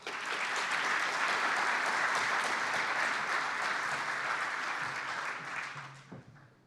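An audience at the CDL Super Session 2026 applauds steadily to welcome a speaker, a broad even clatter of clapping that fades out at the end.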